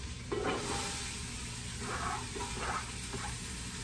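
Softened, translucent onions and celery cook in a pot, giving a quiet, low sizzle with faint bubbling and a few soft utensil stirs, nearby but subdued and without speech.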